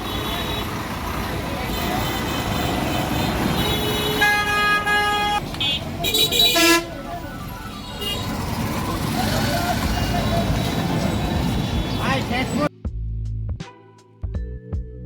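Ride in an auto rickshaw through road traffic, a constant engine rumble and road noise with passing vehicles and a few horn toots, voices talking over it, ending in an abrupt quieter stretch.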